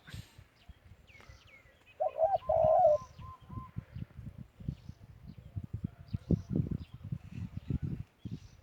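A spotted dove coos in a short phrase during bird training outdoors, faint and fairly close, with soft rustling and scattered low thumps around it.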